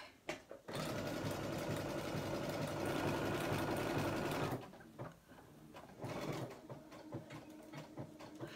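A sewing machine runs steadily for several seconds sewing appliqué stitch Q14, loud and close, then stops; a few lighter mechanical clicks and handling sounds follow.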